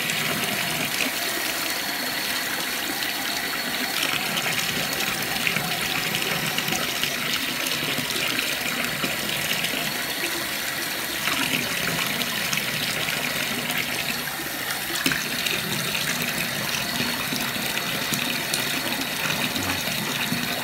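Tap water pours steadily into a bathtub, a continuous broadband rush and splash with no pauses, fairly loud and close, with no voices.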